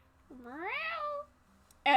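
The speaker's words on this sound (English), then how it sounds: "In Arata's bag, Laffy and Annie just hear, meow." A cartoon cat gives a single rising, drawn-out meow that swells and then falls away. The sound is clear and close, and a brief sharper noise cuts in at the very end.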